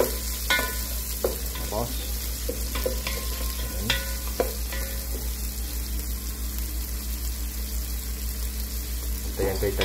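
Onions sizzle steadily in hot oil for sinigang na bangus, a constant frying hiss with scattered scrapes of a spoon against the pan, and a voice speaking briefly at the start.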